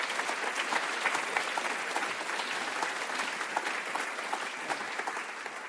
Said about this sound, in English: a round of applause for the film director, Sofia Exarchou